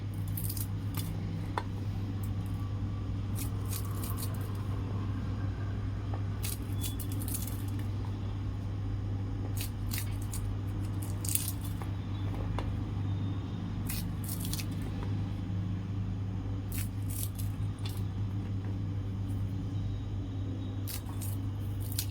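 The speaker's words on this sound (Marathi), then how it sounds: "आता ते त्याला मी कापून घेते अशा प्रकारे कापून घ्यायची" Dried green chillies being cut for pickle, a series of crisp, irregular snipping clicks over a steady low hum, close and fairly quiet, no speech.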